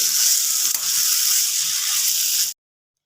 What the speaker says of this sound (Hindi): अब इसके अंदर कसूरी मेथी 1 टीस्पून और थोड़ा सा हरा धनिया ये डालकर मिक्स करते हैं